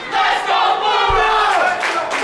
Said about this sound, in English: Now we've got the fans cheering Bulrog on